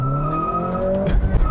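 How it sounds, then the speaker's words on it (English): A 2023 Acura Integra six-speed manual sedan spins its tires under hard acceleration: a steady, loud tonal squeal and engine drone ride over a low rumble, turning rougher and choppier near the end, with no talking. "if it just had some sticky summer tires, it wouldn't be slipping so much"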